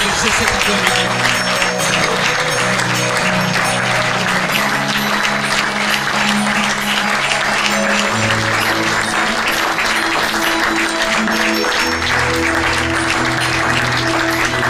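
A church congregation claps and cheers loudly and continuously in praise of the Lord, dense applause mixed with voices and possible music, with no break.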